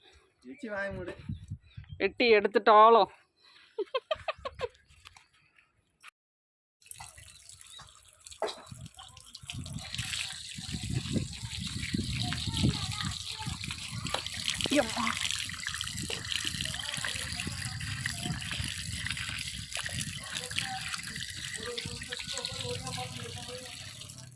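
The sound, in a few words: washing harvested tubers in running water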